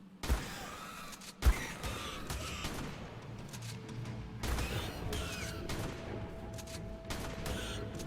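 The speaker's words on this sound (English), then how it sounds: "I am a terrible shot, and I am missing with a shotgun" Pump-action shotgun blasts from the video game ARK, fired in a cave: two sharp, loud booms early on, followed by continuous rumbling game ambience and mechanical noise, with no talking.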